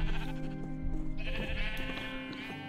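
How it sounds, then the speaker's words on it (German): Sheep bleating in Minecraft, a sustained nasal bleat with overlapping calls over about three seconds, close and clear against a steady game background, with no talking. "Also wir haben hier Schafe."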